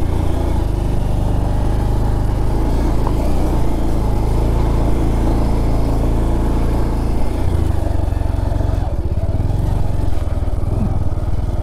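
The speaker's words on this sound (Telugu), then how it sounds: "ఒక పల్సర్ 150 స్ట్రీట్ బైక్ని ఏ విధంగా యూజ్ చేస్తానండి నేను." A Bajaj Pulsar 150 street motorcycle is ridden on the road up to Bolumalai, its loud, steady engine drone mixed with wind rush and clatter throughout, with no speech.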